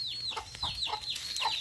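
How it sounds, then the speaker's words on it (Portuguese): Hungry chickens cluck in quick repeated calls close by on a small rural farm, several birds crowding together as they follow someone around. "as galinhas tudo me acompanhando com fome"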